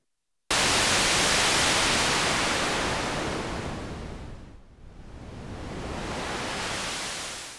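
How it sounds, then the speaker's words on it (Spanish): Low-type noise from a Korg Minilogue XD synthesizer passed through a low pass filter, a steady broadband hiss that starts abruptly, dips briefly midway, then swells back, heard alone with no talking. "El segundo tipo de ruido se le conoce como low y se le está aplicando un low pass filter."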